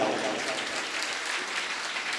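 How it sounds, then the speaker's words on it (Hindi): Clapping from an audience at a Hindu religious ceremony, a steady dense patter of many hands heard throughout at moderate level. "अच्छे सम्मान में तालियां बजाओ"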